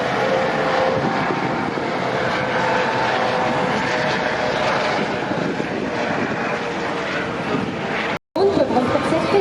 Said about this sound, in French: regardez cette synchronisation entre les 2 hélicoptères Panther, ils vont essayer de recopier leur mouvement.